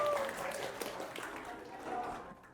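Students in a high school classroom clap their hands, a loose, moderately loud patter mixed with voices and room chatter.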